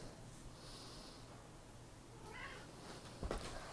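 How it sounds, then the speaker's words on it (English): A house cat meows faintly in the background, a brief soft cry followed by a short snort-like sound, heard alone and quietly with no talking. "Oh no, my cat is causing trouble."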